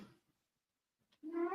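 A single cat meow, fairly close and moderately loud, rising out of near silence after a faint earlier murmur.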